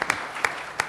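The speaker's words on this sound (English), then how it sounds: "Let's just give him a round of applause." An audience at a Colorado Republican primary candidate debate claps, with a few sharp distinct hand claps over a short stretch rather than full sustained applause.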